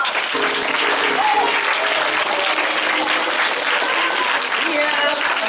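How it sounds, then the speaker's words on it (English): An assembly audience claps steadily and loudly for teachers, family members and the PTA, with dense, sustained applause filling the room from start to finish. "Let's give them a big round of applause."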